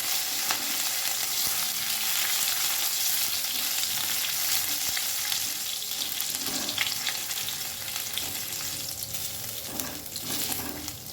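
Grated ginger frying on a low flame in tempering oil for mung dal with pumpkin greens, a continuous close sizzle with intermittent stirring scrapes.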